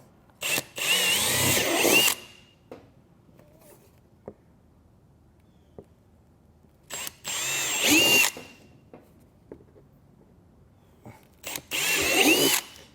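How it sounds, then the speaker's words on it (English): A power drill whines through the corners of a plastic Jeep Wrangler panel in three separate bursts of a second or two each, with quiet pauses between. "take a drill bit and drill these corners out"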